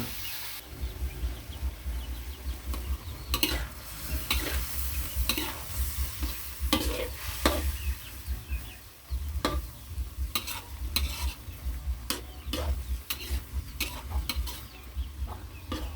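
Shrimp and cauliflower stir-fry in a hot pan, with a steady sizzle under repeated sharp scrapes and clacks of the spatula, close and continuous with no speech.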